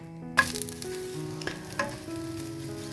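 Gluten-free pancake batter hitting a hot pan and frying with a steady close sizzle, a sharp onset followed by continuous crackling and a few faint clinks of utensils, with no talking.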